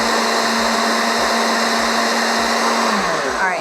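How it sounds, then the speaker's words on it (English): A blender whirs loudly and steadily while mixing a chocolate spinach smoothie, its motor whine holding constant before dropping in pitch near the end. "just put everything in the blender and then you turn it on."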